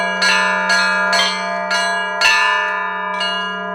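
Church bells in Suzdal, rung by a visitor learning to play them, strike loudly in an uneven sequence of about six clangs over a steady low hum, each ringing on with long metallic overtones.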